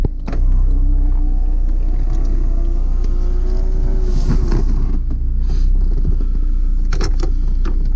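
A 2004 Honda S2000 idles steadily with a low engine rumble while its roof is pushed up, with faint clicks and mechanical shifts of the top above the continuous hum.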